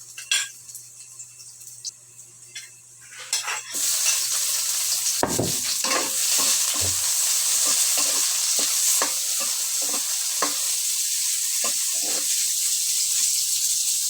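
Garlic hitting a hot pan and frying with a sudden loud sizzle after a quieter start, followed by steady hissing and repeated scraping and clinking of a utensil stirring.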